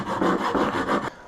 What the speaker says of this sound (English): we're just going to go around the washer and try and just take the diameter in a little bit